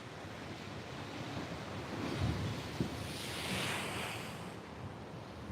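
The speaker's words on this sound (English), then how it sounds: "You can feel the rocks shake, the waves are hitting that hard." Heavy ocean surf crashing against coastal rocks near Land's End, a loud continuous roar mixed with buffeting wind on the microphone, swelling and easing as waves hit.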